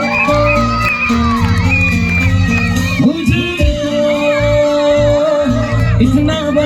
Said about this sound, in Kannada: ಜೋರು ಚಪ್ಪಾಳೆ ಬನ್ನಿ